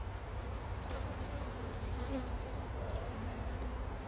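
Honey bees buzz around an open hive during honey pulling, a dense, steady hum close by with individual bees droning past now and then.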